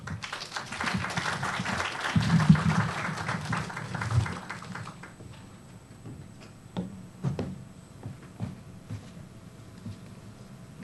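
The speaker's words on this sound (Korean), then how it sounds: "큰 박수로 청해 주십시오" An audience in a lecture hall applauds to welcome a professor to the podium. Dense clapping runs for about five seconds, then thins out into scattered claps and quiet.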